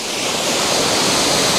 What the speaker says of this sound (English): you've got a second waterfall